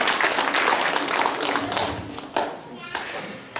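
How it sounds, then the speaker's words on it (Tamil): Audience at a Tamil school event clapping, a dense continuous patter that fades somewhat toward the end. "இன்னொரு கைத்தட்டி நன்றியை கூறுவோம்."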